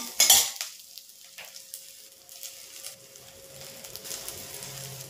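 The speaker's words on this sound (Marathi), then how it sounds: "तर इथं मी ना हे तुपामध्ये भाजून घेणार आहे." Onion dropped into ghee in a new kadhai, a sharp initial splash and clatter followed by a quieter, steady sizzle with soft stirring scrapes and a faint tone running underneath.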